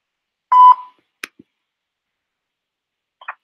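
A voicemail recording tone on a phone call, one short clear electronic beep followed by faint clicks of the line, otherwise silent.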